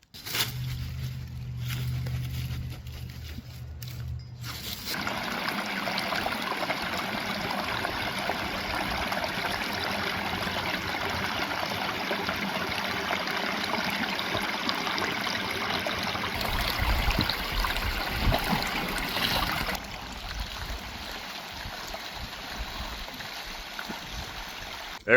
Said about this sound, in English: There is still some ice around the waterfalls.